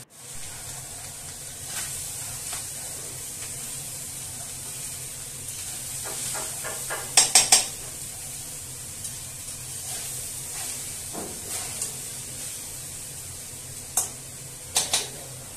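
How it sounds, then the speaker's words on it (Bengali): Rice is stirred with mixed vegetables in a pan, giving a soft, continuous scraping and hissing sizzle broken by a few sharp clinks of the spoon against the pan. "সবজির সাথে ভাতটা খুব ভালো মতো নাড়িয়ে নিলাম।"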